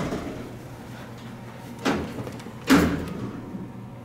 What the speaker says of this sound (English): Doors open really slowly on this thing.